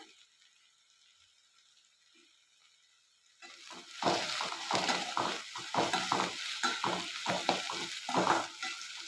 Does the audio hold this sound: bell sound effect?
no